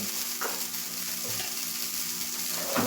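Wheat-flour jaggery malpua fries in ghee on a flat griddle with a steady, close sizzle. A few soft scraping touches come as it is turned.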